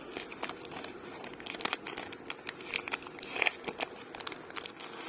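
Foil trading card and sticker packs are being torn open carefully up close, giving a run of crisp crinkles, rustles and short ripping bursts in an irregular rhythm.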